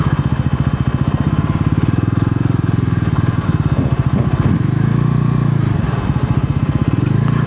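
A Bajaj Pulsar NS400Z motorcycle with a bidirectional quick-shifter and blipper rides steadily, its engine note loud and close with a continuous pulsing rhythm and subtle shifts in pitch as gears change.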